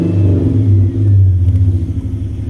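A 2008 Ford Mustang 4.0 V6 engine is revved on the gas close up, a loud deep rumble that swells and eases in waves without any talk.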